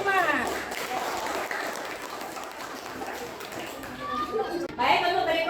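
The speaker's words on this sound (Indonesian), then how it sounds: "beri tepuk tangan untuk kelompok 5" A classroom of pupils claps for a presenting group, a scattered patter of hands under a teacher's voice and children's chatter, growing brief and uneven toward the end.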